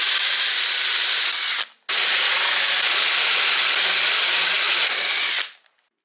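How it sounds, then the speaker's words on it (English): A loud power drill whines steadily through wood in two bursts while making a router table, a brief pause between them, then winds down to silence. "I'm going to drill some holes in them"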